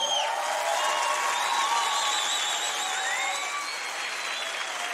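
Studio audience applause at a Spanish-language stand-up comedy show, a steady crowd clapping that tapers slightly toward the end, with a few whistles and cheers rising above it.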